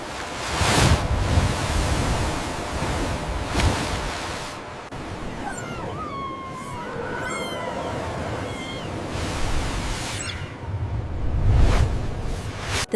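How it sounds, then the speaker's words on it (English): Ocean waves crashing with wind blowing, a loud broadband roar that swells and fades in surges, with faint high squeaky calls in the middle. "The deafening roar of crashing waves and the high-pitched whistling of the wind."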